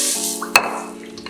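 Coconut milk and marinade being stirred in a bowl, a brief wet swish with one sharp clink of a utensil against the bowl, over a steady background hum.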